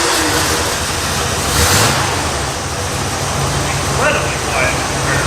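A boat engine swapped into a truck runs with a steady, muffled rumble and a brief rev, with broadband road-like noise throughout and faint voices underneath.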